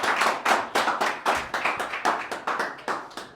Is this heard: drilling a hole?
no